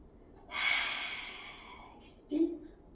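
One long audible inhale during an advanced Pilates exercise, close and soft, drawn over about a second and followed by a brief snort-like puff.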